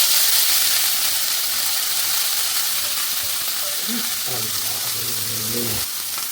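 Beetroot thoran mixture hits hot coconut oil in a pan with a loud, continuous hiss and sizzle, broken near the end by a few clinks and scraping stirs.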